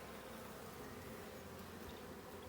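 A dense, steady drone of honeybees fills the air during an apiary hive inspection in Ballachulish, the agitated swarm close and continuous with no talking.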